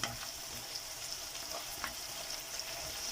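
Tomato paste with spices frying in a pan, a steady close sizzle with a few small pops and crackles running the whole time, with no voices.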